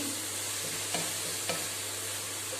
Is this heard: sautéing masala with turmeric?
yes